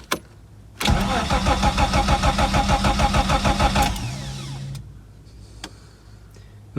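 A Ford Sierra Mk1 4x4 Ghia estate with a 2.8i engine cranks without firing: a loud, close starter whirr with a fast regular pulsing chug lasting about three seconds, then a brief lower grind before it stops and falls quiet.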